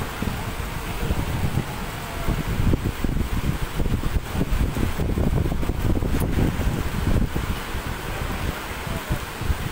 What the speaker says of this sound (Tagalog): Oh, laks ng hangin.